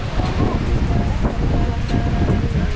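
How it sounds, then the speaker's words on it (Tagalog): Strong wind at an outdoor grilling spot buffets the microphone in a steady, loud roar, with a faint voice underneath. "Ayun, lakas ng hangin."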